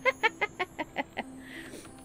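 A chicken in an animated adventure game clucks seven times in a quick, evenly spaced series, close and clear, and the calls fade into a soft trailing murmur.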